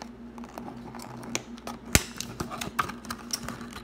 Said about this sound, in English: let's go ahead and crack it out of its plastic case